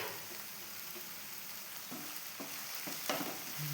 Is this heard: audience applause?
no